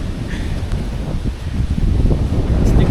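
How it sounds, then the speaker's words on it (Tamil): Strong wind gusts buffet the microphone on a monsoon trek up Kodachadri, a loud, rough roar with rustling that swells toward the end. "காற்று பயங்கரமாக அடிக்குது ஃப்ரெண்ட்ஸ்"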